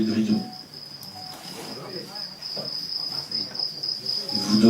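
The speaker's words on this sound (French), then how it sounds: "pendant la nuit, on entendait les grillons" Crickets chirp at night as a sound effect in a stage hypnosis show, a high, thin, continuous trill throughout, with soft murmurs and low sounds from the room beneath it.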